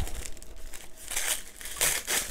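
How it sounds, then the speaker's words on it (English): Plastic wrapping around a mystery beer is torn open, giving loud, close crinkling in two or three bursts with a brief pause between. "It's like unwrapping in the most fancy present ever."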